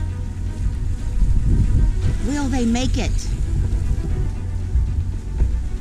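A boat runs on only one engine at sea off Danger Point near Cape Agulhas, South Africa, giving a steady low drone mixed with wind and wave noise while a person speaks briefly over it.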